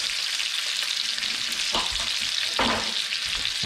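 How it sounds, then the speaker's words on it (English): A turbot fillet basting in melted butter in a pan gives a close, steady sizzle with a couple of brief louder spatters and no talking. "get some butter in the pan. Let that melt down, and we're going to baste it in butter."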